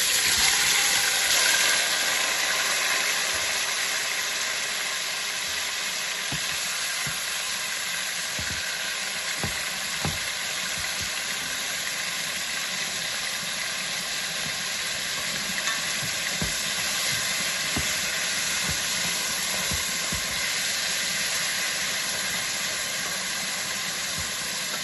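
Jamaican brown stew goat meat with ginger simmering in a pot, giving a steady hiss and sizzle with scattered soft pops and bubbles, close and continuous with no talk.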